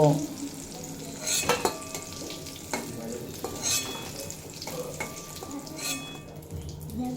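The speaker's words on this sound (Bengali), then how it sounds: "খুব ভালোভাবে ভেজে নেব উচ্ছে" Bitter gourd frying in oil in a pan, a soft continuous sizzle broken by spatula scrapes and light clinks of utensils against the pan.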